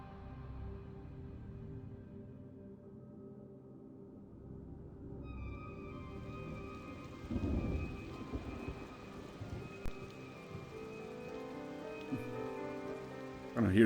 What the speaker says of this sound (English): I can hear the sound of rain and thunder.